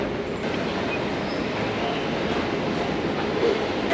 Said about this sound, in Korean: 이제 또 리옹에서도 지하철을 타고 이동해보겠습니다